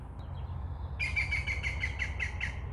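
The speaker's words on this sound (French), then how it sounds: "Les oiseaux qui chantent." Birdsong rings out at a mountain lakeside campsite, a bright repeated chirping phrase starting about a second in and pulsing steadily over a low background hum, fairly close and clear.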